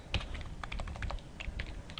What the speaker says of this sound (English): I'm going to type string